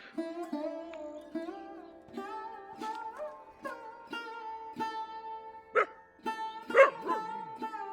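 A farm dog in a chili field yelps and whines nearby in a series of high, drawn-out cries with a few sharper yips. No talking.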